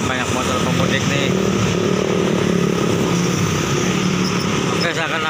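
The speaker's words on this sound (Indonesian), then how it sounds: "terlihat banyak motor pemudik nih." Dense stream of motorcycles and other traffic at a red-light intersection in Palimanan on the Pantura road at night during the Lebaran 2022 homecoming rush, a continuous loud engine roar with voices faintly in the mix.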